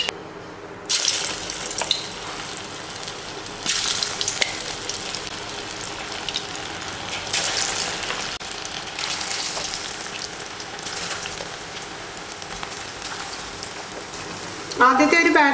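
Chicken pieces for restaurant-style Chicken 65 fry in hot oil over a medium flame, giving a loud, steady sizzling hiss that surges as a batch goes in and holds throughout.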